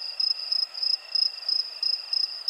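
Crickets chirping in a steady rhythm, a bright, clean repeated trill pulsing several times per second throughout, close and alone with no other sounds.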